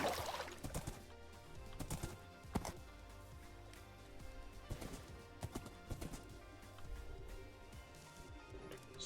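Horse hooves clip-clop in Minecraft, a run of soft, rhythmic clops under steady background music and game noise, fairly quiet.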